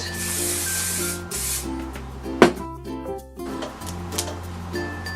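Two long hissing sprays from a hairspray can onto hair, close and fairly loud, followed by a short clatter and faint handling sounds.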